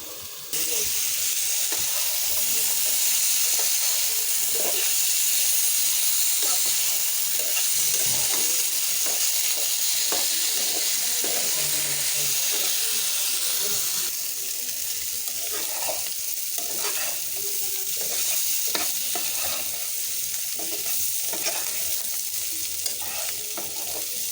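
Spiny gourd (kakrol) pieces frying in a covered pan, giving a continuous loud sizzle and hiss for the whole stretch, with occasional stirring clatter and a slight drop in intensity partway through.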